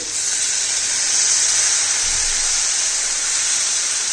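Water poured into hot spiced masala in a pan while cooking butter mushroom, giving a steady, loud, continuous sizzling hiss that holds evenly throughout, with no voices.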